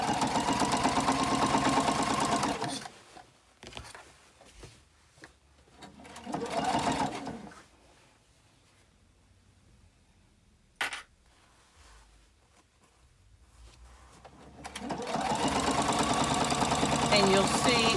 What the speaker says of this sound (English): I'm going to stop a 1/2 inch from the edge and pivot and turn